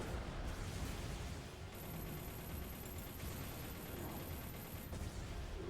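Dense, continuous gunfire from a weapon in the mech video game M.A.S.S Builder, a sustained rattling barrage with explosive rumble and a high whine running through most of it, steady and fairly loud throughout.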